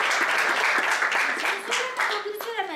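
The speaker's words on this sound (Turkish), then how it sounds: "Şahitlerimizi de alkışlayalım." Applause for the witnesses at a Turkish civil wedding ceremony in Fethiye: a steady crowd clapping that carries on throughout, with voices and cheering mixed in near the end.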